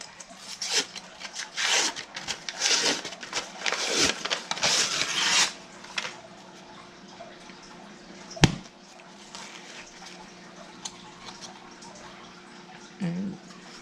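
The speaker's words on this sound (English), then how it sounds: "even though it says not to, I'm still gonna grease that pan" A baking pan is greased for biscuits with brisk rubbing and scraping strokes, loud and close for about five seconds, then quieter handling with one sharp knock.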